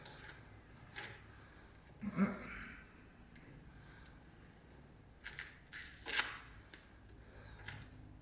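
Tape is peeled in short, rustling tearing bursts from a blue hose quick-release fitting on an Aries3 machine, with a few separate scrapes spread out amid quiet room tone.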